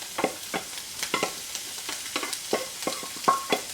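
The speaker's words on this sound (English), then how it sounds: "Sizzling nicely now." Rice sizzles and crackles in a hot frying pan for chicken fried rice, with a steady run of sharp stirring scrapes and spatters close by and no voices.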